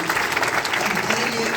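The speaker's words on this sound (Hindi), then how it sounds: "आज इस प्रोग्राम को जो होस्ट कर रहे हैं मैं चाहूंगा अब्दुल्ला सर के लिए जबरदस्त तालीम होनी चाहिए।" Audience in a hall applauding the program host, dense continuous clapping from many people at close range, with no pauses across the short stretch.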